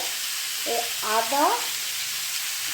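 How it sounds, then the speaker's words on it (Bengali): Mixed vegetables sizzle steadily in a pan, a close, even frying hiss with a short voiced murmur partway through. "এবার এগুলোকে আমি ভেজে নেব।"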